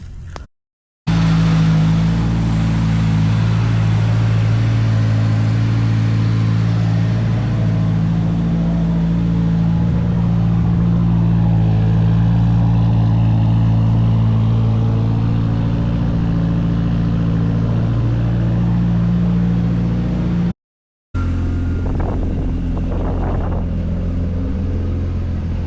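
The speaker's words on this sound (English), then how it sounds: "Car is running decently enough" Nissan Sentra engine runs after a rebuild, a loud steady idle with a deep even drone, cut by brief silences near the start and end, then a few clunks.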